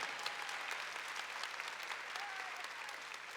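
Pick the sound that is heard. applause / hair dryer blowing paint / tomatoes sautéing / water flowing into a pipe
applause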